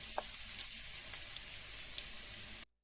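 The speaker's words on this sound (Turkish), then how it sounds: "Soğanları üzerine ekleyip karamelize oluncaya kadar kavuruyorum." Onions fry in plenty of olive oil in a pan, giving a continuous, even sizzle with faint crackles that stops abruptly at the end.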